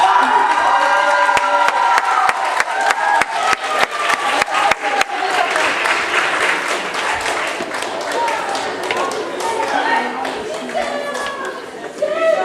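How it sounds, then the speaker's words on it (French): An audience at a cosplay awards ceremony claps and cheers loudly for a prize winner. Dense, rapid clapping and shouts build over several seconds, then settle into scattered applause with crowd chatter. "je vous demande d'applaudir très fort Gisèle."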